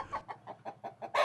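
Chickens and roosters at a poultry farm cluck in a steady series of short, evenly spaced calls, close and clear, ending in a louder burst of squawking.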